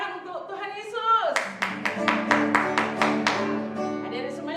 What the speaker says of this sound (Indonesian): Sekali lagi tepuk tangan untuk Tuhan Yesus.